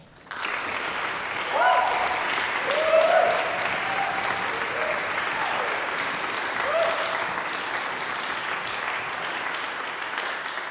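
Sustained applause from a large audience at a spring choral concert, steady and fairly loud, swelling slightly early on, with a few faint whoops in the crowd.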